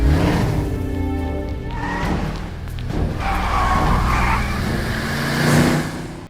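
A car being driven in the video game Fighting Force 2, with a steady engine drone and tire noise that rise and fall, loud and continuous, and skids mixed in with no speech.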